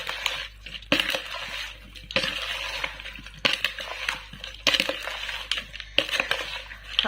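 A spoon stirs cauliflower pickle with lemon juice in a bowl, producing repeated bursts of wet, crunchy scraping and clinking in an uneven rhythm, close by and without talk.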